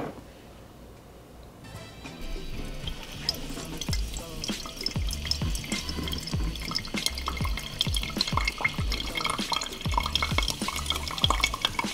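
An inverted-method coffee press is pushed down into a drinking vessel, giving a steady liquid hiss and gurgle with repeated small clicks and drips that grow louder after a quiet start.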